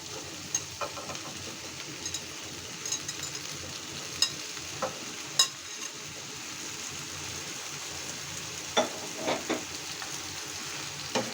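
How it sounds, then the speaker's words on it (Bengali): Water lily stems hit a hot pan and fry, a low steady hiss broken by light clicks and stirring scrapes, fairly quiet and unaccompanied by talk. "এখন আমি শাপলাগুলো ঢেলে দিচ্ছি।"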